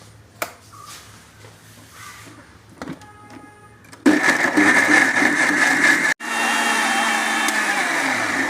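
A mixer grinder grinds fish curry masala mixed with tamarind water: a few quiet clicks and handling noises, then a loud motor whir starts, cuts briefly, and resumes steadily.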